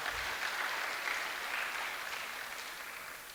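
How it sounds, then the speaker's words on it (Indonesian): Audience applause at a church youth revival retreat service, a steady wash of many hands clapping at moderate level for a few seconds, fading slightly toward the end. "Beri tepuk tangan buat Bapak kita."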